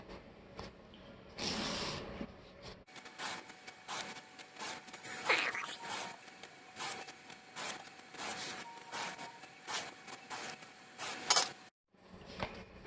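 A blade scoring a foam mat for an Aliens Colonial Marine armor costume, with a run of scratchy, rasping strokes close by, broken by short pauses.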